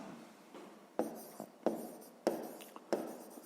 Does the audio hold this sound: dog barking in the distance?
no